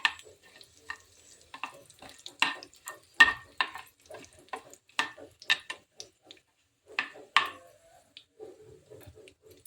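Red chillies dropped into hot oil in a home kitchen, giving scattered bursts of crackle and spatter with stirring between them, close and fairly quiet, no voices.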